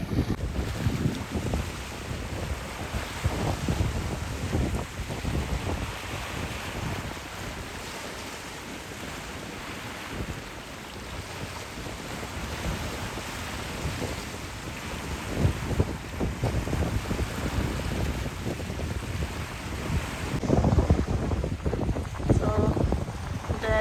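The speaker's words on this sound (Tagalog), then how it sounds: "Narinig niyo yung alon?" Steady roar of ocean waves washing over a rocky beach at Whytecliff Park, West Vancouver, with wind buffeting the microphone throughout and a louder surge near the end.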